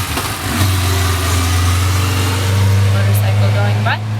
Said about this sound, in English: Motorcycle going by.